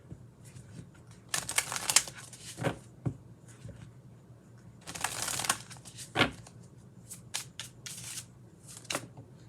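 Oracle cards being shuffled by hand, giving bursts of riffling and flicking that come and go in short runs with soft taps and gaps between them, close by, with no talking.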